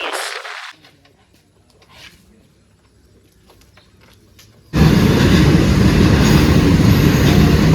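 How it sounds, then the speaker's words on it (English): A train rushes through a railway crossing, arriving suddenly after near silence as a loud, close, broadband roar of rolling wheels and rattling cars that holds steady to the end. "बल्ल ट्रेन आयो।"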